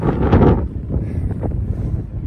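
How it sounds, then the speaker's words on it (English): Wind buffets the microphone in rough, low rumbling gusts, strongest at the start and then steady, with no voices, on an open trail near a wind farm. "but you can hear the wind."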